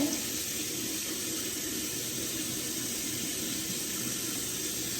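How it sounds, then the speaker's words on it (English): A drinking straw is rinsed under a running kitchen tap, a steady close hiss of water pouring into a sink that holds constant for the whole stretch, with no talking. "So now I'm washing the straw."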